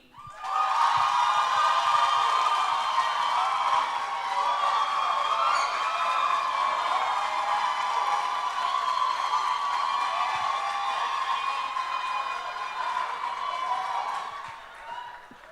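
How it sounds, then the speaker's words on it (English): A crowd at an accounting technology summit cheers and applauds for Group A, a loud, sustained roar of clapping, whoops and shouting that holds steady for about fourteen seconds before tapering off. "with a resounding applause and of course, and your voice being the votes, let's hear it for Group A"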